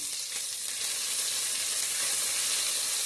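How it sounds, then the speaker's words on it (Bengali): Garlic and ginger sizzling in hot oil with cumin seeds, a steady close bright frying hiss that holds evenly throughout with no talking. "এখন আমি ইনোর মাঝে রসুন দিলাম, 1 টেবিল স্পুন রসুন, 1 টেবিল স্পুন আদা।"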